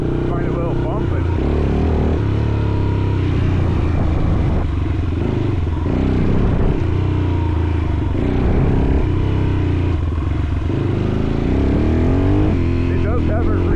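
A Yamaha XT350 motorcycle engine drones loudly and steadily while being ridden, with the revs rising and falling a little and someone talking over the constant engine and wind noise.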